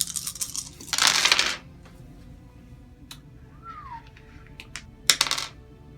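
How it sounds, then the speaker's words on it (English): Dice for a tabletop wargame recon test rattle and clatter onto a table in two loud bursts of clicking, separated by a quieter pause with a few small knocks. "Tim will be rolling white dice on a 5-up, and Marcus will be rolling the colored dice on a 4-up"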